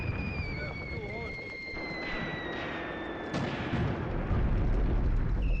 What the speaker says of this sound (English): I could just see a shell passing overhead there from the infantry support gun